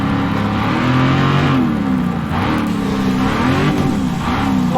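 A modified Camaro's engine revs loudly while driving, the pitch rising and falling in repeated surges, close and continuous, with a faint high whine above it.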